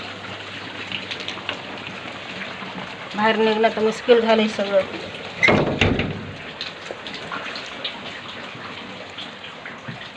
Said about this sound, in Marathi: एवढा पाऊस झालाय की थांबायचं नावच घेईना